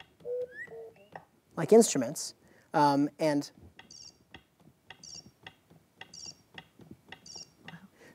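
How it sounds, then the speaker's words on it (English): Sampled woodpecker and wood thrush calls from New York birds, triggered on an Ableton Push: bright whistled bird phrases, then a run of short, evenly spaced high ticks like pecking, with a voice talking briefly over it. "so these are woodpeckers and a wood thrush."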